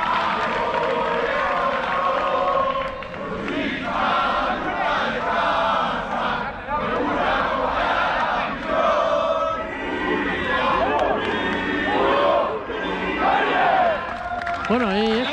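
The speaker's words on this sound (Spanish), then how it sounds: "El aplauso para los jugadores." Stadium crowd at an American football game between the Mariners and the Black Demons roars and cheers for the players, a dense, loud wash of yelling voices that rises and falls, with some clapping and nearby speech mixed in.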